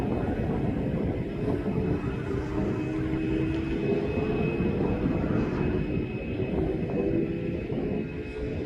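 A steady, loud jet engine drone with a low rumble and faint whine, continuous throughout as a Ryanair airplane rolls along the taxiway for runway 27 at East Midlands Airport.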